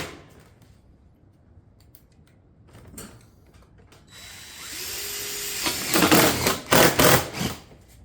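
A power tool fastens ridge cap shakes on both sides of a roof ridge, with quiet handling noise at first, then a rising mechanical whir and several loud bursts of fastening near the end.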